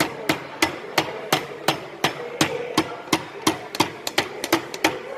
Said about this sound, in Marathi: याला पण हलक्या त्याने ठोकायचं आहे, जेणेकरून आपल्याला थ्रेड नट लावण्यासाठी स्पिंडल बाहेर आला पाहिजे.